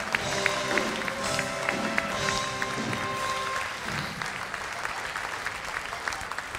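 Audience applause at a German carnival family session, a sustained burst of clapping from a hall crowd with music tones ringing through during the first half.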